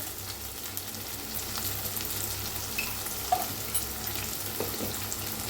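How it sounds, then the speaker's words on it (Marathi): Tomatoes frying in a pan for a wedding-style brinjal and potato curry give a steady, moderate sizzle with a few soft clinks of stirring, alone without voices. "टमाटर छान असं भाजायला लागले"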